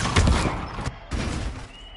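Spell-casting effects from the Hogwarts Legacy video game: two quick bursts of whooshing, crackling magic in a row, close and fairly loud, with a short gap between them.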